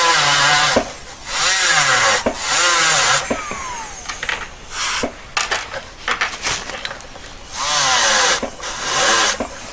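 A rotary bristle brush polishes the claws of a four-claw single-stone ring, giving a loud, rough whirring grind in repeated bursts with brief gaps and shifting pitch as the brush meets the metal.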